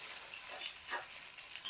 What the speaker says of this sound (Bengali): আদা রসুনের পেস্টটাকে ভালো করে পেঁয়াজের সঙ্গে একটু ভেজে নেব